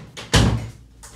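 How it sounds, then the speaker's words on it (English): An indoor door pushed shut in a single firm, close thunk that fades quickly, with no one speaking. "let me close this door"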